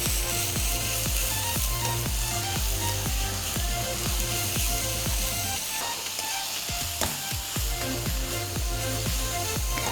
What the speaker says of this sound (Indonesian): Kita tumis hingga warna dagingnya berubah.